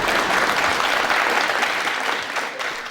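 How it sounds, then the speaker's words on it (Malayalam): A studio audience at a televised courtroom-style interview show breaks into sustained, dense clapping that stays loud and even throughout, tapering only slightly at the end. "ഇപ്പൊ നല്ലൊരു കയ്യടി കിട്ടുമായിരിക്കും."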